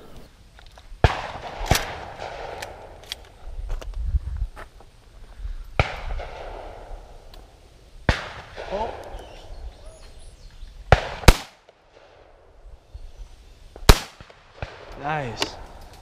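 Shotgun blasts at an outdoor sporting clays range early in the season: several sharp, loud reports spaced a few seconds apart, with people talking between shots and brief bird-like chirps.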